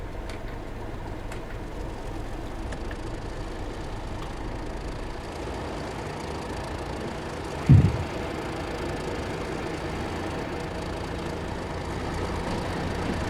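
A Class 31 diesel locomotive hauling wagons in Train Sim World 3 rumbles steadily with a low engine drone, broken by one short loud clunk midway, no voices.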